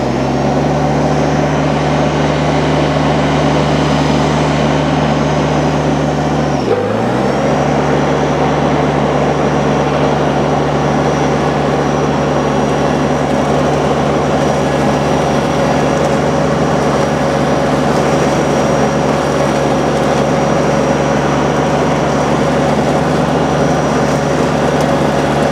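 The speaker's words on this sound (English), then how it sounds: "I want to hear the mower. I want to hear the tractor." A tractor with a mid mount mower brush hogs through growth, its engine and mower droning loud and constant, with one brief dip in pitch early on, no talking.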